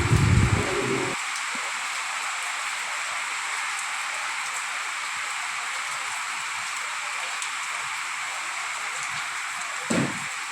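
Steady rain falls on a wet morning while clothes are waiting to be washed, a continuous even hiss throughout, with a couple of brief low thumps near the start and end.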